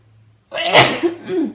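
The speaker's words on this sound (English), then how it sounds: "I'm gonna sneeze" After a moment of near silence, one loud, close sneeze bursts out and trails off into a short breathy voiced sound.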